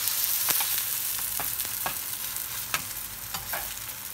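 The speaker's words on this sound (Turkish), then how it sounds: "birincisinden daha hızlı pişecek çünkü tavamız artık iyice sıcak olduğu için daha çok pişiyor" Kaygana batter frying in a very hot pan, with a steady close sizzle and a few sharp crackles and pops spread across the few seconds, no voices.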